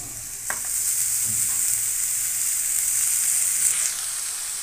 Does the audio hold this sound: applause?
no